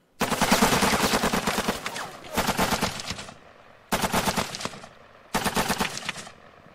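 Automatic weapon fire rings out in Lock 'n Load Tactical Digital, a Viet Cong cavalry scenario, as four loud rattling bursts of rapid shots separated by brief pauses.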